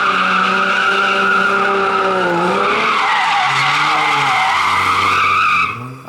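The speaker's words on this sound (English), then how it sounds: "This is Blake's first time street drifting" Loud, sustained tire squeal from a car street drifting, with pitch sweeping up and down as the slide continues for several seconds before cutting off abruptly near the end; no talking.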